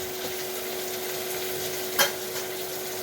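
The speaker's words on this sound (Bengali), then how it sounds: "এখন পেঁপেটা দিয়ে দিই, আরও ভাজিয়ে নিই পেঁপের সঙ্গে" Papaya pieces fry in a hot pan with oil, a steady close sizzle that holds throughout, broken once by a brief clatter of a utensil stirring.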